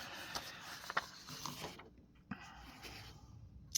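A home printer running through pages, a soft mechanical whir and rattle of feed rollers with small clicks and ticks, close by and fairly quiet.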